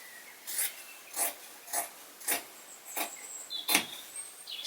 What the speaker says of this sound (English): So fold in half, and we're going to cut strips from this side.